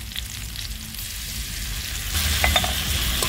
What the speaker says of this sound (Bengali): এবার আদা বাটাটা দিয়ে দেবো।